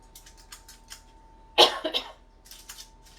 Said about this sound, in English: did you just cough on the video?